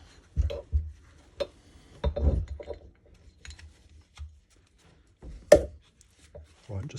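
Small socket gently tapped onto a spacer on an old Moto Guzzi motorcycle, a handful of light, sharp metallic taps spaced irregularly, close and quiet with near silence between them.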